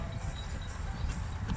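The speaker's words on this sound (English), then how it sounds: "I need to be able to manoeuvre my horse in that space" Hooves of a horse worked in a Western-style riding demonstration, clip-clopping in a low, steady patter close by against a constant rumbling background.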